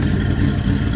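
A supercharged Oldsmobile Cutlass with a Weiand 142 supercharger idles outside in the cold, its exhaust giving a close, loud, steady low rumble with slight pulsing.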